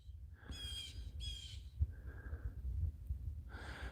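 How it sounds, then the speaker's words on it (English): A blue jay squawks in harsh bursts outdoors near melting lake ice, three loud calls spaced over a few seconds with a fainter one between, above a steady low rumble of wind or water. "Shut up, squawking blue jay."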